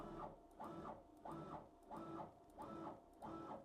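FoxAlien XE Ultra 8080 CNC router gantry jogging along its Y-axis toward the back, six evenly spaced stepper-motor whines rising and falling in a regular rhythm, faint and close, with no voices.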